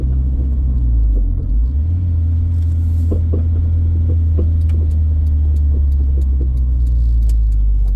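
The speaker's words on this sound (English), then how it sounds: "Hear my clunking there. That's something I gotta fix here soon. Sway bar links clunking all around." Dull clunks and light rattles from worn sway bar links knock irregularly beneath a steady low rumble of a first-generation Honda CR-V driving, with no talking.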